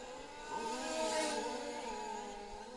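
A red Ferrari-liveried racing car in a Formula-class race at Lostallo, its high-pitched engine swelling loudly past, its pitch bending as it goes by, then fading. Another engine drones faintly behind it.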